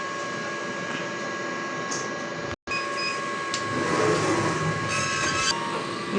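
An inkjet printer runs its head-cleaning and nozzle-check cycle, a steady mechanical whirring with clicks and a brief cut-out, then busier rattling and shuttling as the carriage moves, close and without talk.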